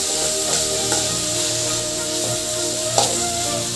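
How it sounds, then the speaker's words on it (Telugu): Prawns fry in hot oil with ginger, garlic and bitter gourd pieces for a ridge gourd prawn curry, giving a steady close sizzle with a couple of brief utensil knocks. "రొయ్యలు ఆయిల్లో ఫ్రై చేసి"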